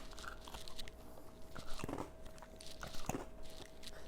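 Several crisp crunches from someone biting into and chewing a strawberry-frosted donut-flavored Oreo cookie, two sharp bites about a second apart over soft mouth noise, close to the microphone.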